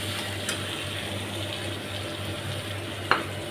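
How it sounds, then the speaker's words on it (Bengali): Water poured into simmering ghugni, a pea curry, makes a steady soft rushing trickle close by, with a couple of faint clicks. "এবার একটু জল দিয়ে দেবো।"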